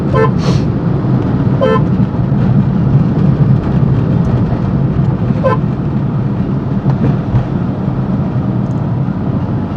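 Several short car horn toots sound over a constant rumble of city road traffic in Pune, one early, another soon after, and a third a few seconds later.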